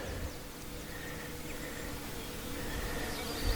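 A steady, dense buzzing of many honey bees close by at a mating nuc hive, continuous and unbroken, with a faint rising hum toward the end.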